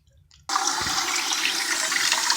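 Hot water from cooked penne poured out in a sudden steady gush that starts abruptly and rushes on without a break, loud and close, with no talking over it.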